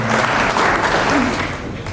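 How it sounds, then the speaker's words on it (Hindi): An audience at a Sanskrit conclave applauds together in honour of a revered figure, a dense, loud, sustained wash of clapping that holds steady for two seconds and begins to ease at the end. "जोरदार ताली से ऐसे महापुरुष के विषय में हमें सम्मान में ताली जरूर बजानी चाहिए"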